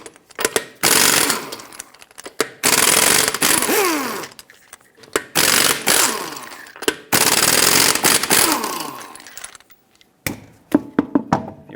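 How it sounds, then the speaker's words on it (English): An impact wrench with a 21mm socket zips lug nuts off a 2013-2018 Hyundai Santa Fe wheel in several loud, close, rattling bursts, separated by short pauses and clinks of metal. "Use a 21mm socket and take all 5 of your lug nuts off"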